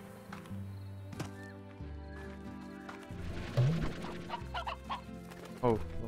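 Chickens cluck in the game Slime Rancher, several short clucks and squawks scattered over layered in-game music, the loudest bursts near the middle and the end.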